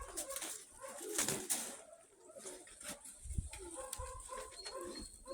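Krymaky pigeons coo softly in a cluster of low, rounded calls, with scattered rustling and shuffling around them at close range.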